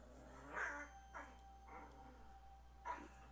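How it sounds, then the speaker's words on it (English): Dogs wrestling in the background of a workshop, giving a few short barks and yips in separate bursts, fairly faint and distant, with no talk over them. "Don't mind the dogs arguing in the background, they're just wrestling."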